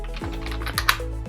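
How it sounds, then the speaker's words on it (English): Close, quick keystrokes on a computer keyboard, a short run of light clicks with a sharper tap near the end over a low steady hum, no voices. "and I start typing my variables"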